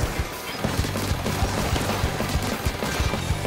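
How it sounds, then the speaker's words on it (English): A new splatling weapon in Splatoon 3 fires a rapid, rhythmic stream of punchy shots, loud and close, with a brief pause early on before the barrage continues steadily, with no talking over it. "New main weapon. That's a new splatling."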